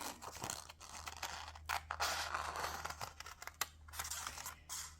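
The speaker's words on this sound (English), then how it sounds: "Next, we'll take our scissors and cut along these lines." Scissors snipping through paper along drawn wavy lines for a paper loom weaving craft: quiet, crunchy cuts and scrapes in an irregular rhythm, close by, with no voices.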